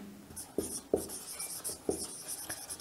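Marker or chalk strokes scrape on a board during a chemistry lesson on the industrial preparation of ammonia. A few sharp taps and short scratchy strokes sound close and fairly quiet, with no talking.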